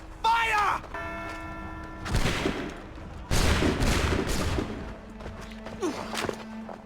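Soldiers' muskets fire in Assassin's Creed 3 as a loud crackling volley, with several sharp blasts in quick succession after a shouted order and scattered smaller clatters afterward.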